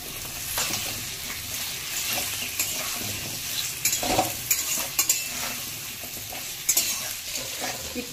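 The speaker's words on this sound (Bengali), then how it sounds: "একটু ভালো করে ভেজে দিয়ে দেবো শক্ত সবজিগুলো, কুমড়ো, আলু," Pumpkin, potato and radish frying in a pan, with a steady close sizzle throughout and a utensil stirring and scraping the vegetables, occasional sharper clinks, no talking.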